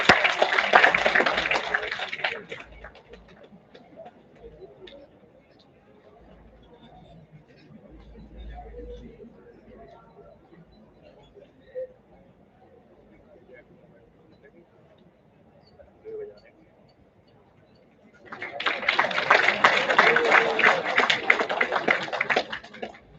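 A conference audience breaks into a burst of hand applause at the start, fades to quiet room murmur with a voice, then applauds loudly again near the end for about five seconds.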